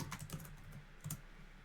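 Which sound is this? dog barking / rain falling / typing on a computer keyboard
typing on a computer keyboard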